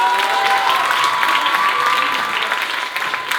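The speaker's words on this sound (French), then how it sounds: "Merci de les applaudir encore plus fort." Loud, sustained applause from a concert crowd cheering young rappers at a live music event, a dense steady clapping that continues throughout with no speech.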